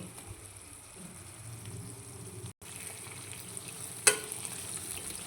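Potato curry masala cooking in oil in a pan, with a steady close sizzle and bubbling throughout, one brief dropout, and a sharp clink near the end.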